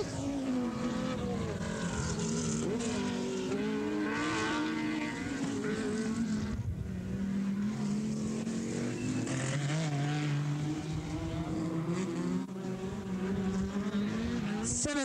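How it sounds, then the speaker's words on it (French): Rallycross race cars, including a BMW and an Audi Quattro, roar around a circuit at Valkenswaard during a 1982 Dutch championship heat, engines revving and droning continuously at a distance. "Lamers a pris un net retard sur la BMW et la Quattro."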